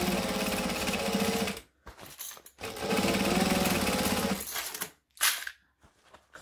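A sewing machine stitches a bag seam, then back stitches, in loud close runs of rapid whirring, each about one and a half seconds long, separated by short pauses and ending with a brief final burst.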